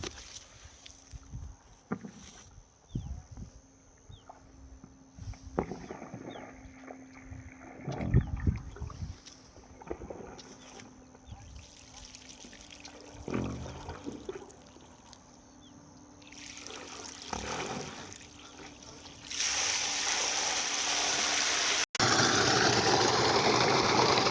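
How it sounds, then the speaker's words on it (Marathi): An electric farm water pump motor hums steadily while a drum is being filled. Water then bursts out as a loud, continuous gushing rush over the final few seconds. "मोटर स्टार्ट झालेली आहे."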